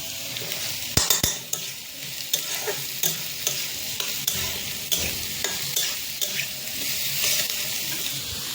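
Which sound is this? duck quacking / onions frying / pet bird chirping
onions frying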